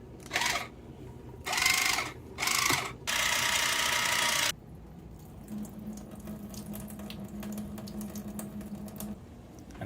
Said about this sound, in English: While that's simmering, I'm going to open and drain the peas.